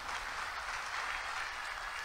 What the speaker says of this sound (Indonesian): Kasih tepuk tangan dulu buat Tuhan kita.